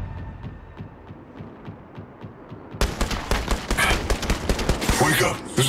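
Gunfire in the mobile battle royale game Apex Legends Mobile: soft rhythmic thuds give way to dense, rapid bursts of shots, close and loud, with in-game voice callouts over them.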